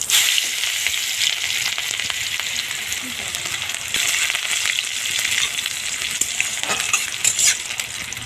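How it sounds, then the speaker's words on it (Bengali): Dried red chilies and five-spice seeds fry in hot mustard oil, making a steady, bright sizzle that lasts throughout. Occasional stirring scrapes sound up close, and no one speaks. "তেলের উপর দিয়ে দিলাম শুকনো লঙ্কা দিলাম কয়েকটা পাঁচ ফোড়ন দিয়ে দিব পেঁয়াজ"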